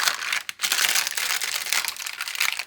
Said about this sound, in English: This is tracing paper that's been coffee dyed.